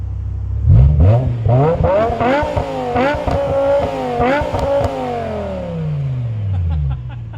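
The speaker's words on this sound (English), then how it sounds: "why don't we get inside the car and then also listen to the exhaust a little bit" A V10 car exhaust revs loud and high-pitched, repeatedly in sharp rising bursts, then winds down in a long falling drone, heard up close from inside the car with no talking.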